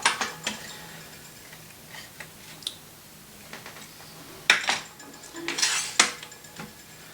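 A crank stringing machine's turntable is turned by hand, giving scattered metallic clicks, ratcheting ticks and light clatters at close range, alone without talk.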